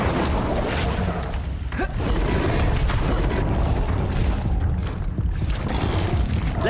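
The Incendio fire spell in Hogwarts Legacy gives a loud, continuous roaring burst of fire and rumbling booms. A voice speaks over the dense game action.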